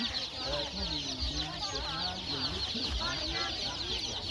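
Chickens cluck and squawk close by amid a crowd at a market in Det Udom, Thailand, with ducks present and voices talking over the birds.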